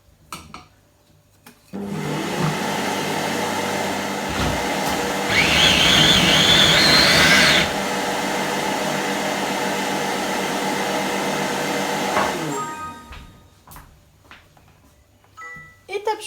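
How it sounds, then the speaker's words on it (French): A Guy Demarle i-Cook'in kitchen robot kneading Flemish waffle dough, a steady motor whir with a rhythmic churning undertone running for about ten seconds, rising briefly louder in the middle before stopping. "on lance de nouveau 1 minute en pétrissage"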